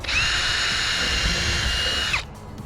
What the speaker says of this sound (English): I like to pre-drill all my holes